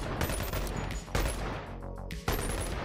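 A drone-mounted gun fires in the VR game Boneworks, with three quick bursts of loud, rapid gunfire in close succession and no talking.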